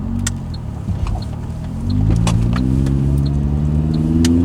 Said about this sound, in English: It does sound quieter just at idle